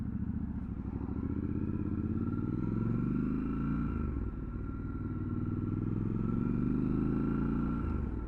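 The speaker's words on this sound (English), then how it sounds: "I was amazed how many new bikes were going out today in the Triumph dealership." Motorcycles pull away from a Triumph dealership, their engines a steady, close rumble that swells and shifts pitch as the bikes ride off, with no talk over them.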